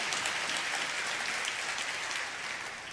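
A church congregation applauds during a sermon, dense steady clapping that fills the whole short stretch at a moderate distance, with no voices over it.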